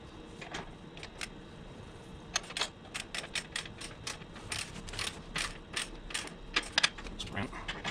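A ratchet tightens the top bolt on a tie-down bracket of a John Deere 260B backhoe. Sharp, irregular clicks come in quick bursts over a low background rumble.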